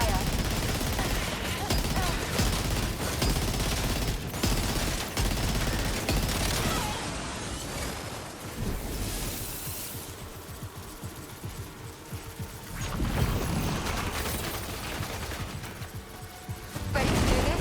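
Sustained bursts of video game gunfire from Death Stranding 2, loud and dense with rapid shots throughout, easing briefly in the middle before picking up again, with speech-like voices mixed in.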